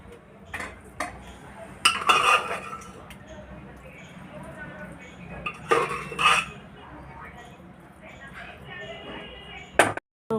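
Dishes and cutlery clink and scrape in scattered bursts during a home meal of tahri with ghee, with a few sharper clinks standing out over a quiet room and soft talk in between.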